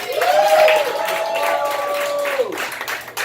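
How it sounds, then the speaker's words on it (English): Audience at a poetry night claps and cheers for a poet, a sustained vocal shout riding over scattered applause that fades toward the end. "Give it up one more time for Brother O."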